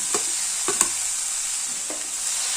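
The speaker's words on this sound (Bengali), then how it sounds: "এবার শিমটাকেও এক মিনিট ভেজে নেব" Chopped beans and carrots stir-fry in a little oil over a high gas flame for a winter vegetable dish, a faint steady sizzle with a few soft spatula scrapes and taps.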